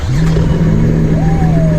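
A Lotus sports car engine cranks and settles into a steady, deep idle that rises slightly, loud and close with no talking.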